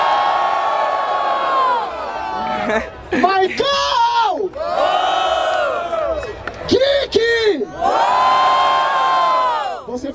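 A crowd at a Brazilian freestyle rap battle in Barueri, SP cheers and shouts loudly in repeated long bursts, with an MC's voice calling out between the waves of noise.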